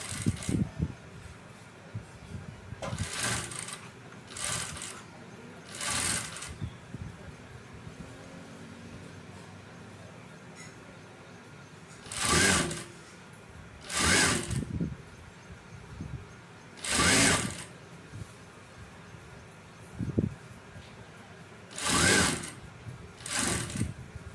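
Nearby, a sewing machine stitches piping onto fabric in short whirring bursts of a second or two, separated by quiet pauses, with faint background hum and a little soft handling noise between runs.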